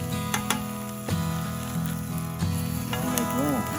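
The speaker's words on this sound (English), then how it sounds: "All right, peppers and onions are pretty much done." Peppers and onions frying over a camp stove at a riverside campsite give off a steady close sizzle, broken by a few sharp clinks of a utensil against the pan and a faint tonal squeak near the end.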